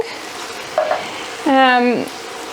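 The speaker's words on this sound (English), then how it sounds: "put my can of chopped tomatoes in here, so that it all starts kind of cooking" Canned chopped tomatoes hit a pan for a vegan chilli with okara and begin to sizzle softly, with a brief tonal scrape and a voice-like sliding tone passing over the low background frying.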